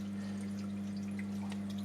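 Aquarium water trickles and drips into an overflow, a faint wet dribbling over a constant loud low pump hum, with no voices.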